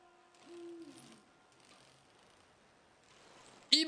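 In a video game, a soft owl hoot rises briefly over a quiet, faint ambient background, followed by a louder burst near the end.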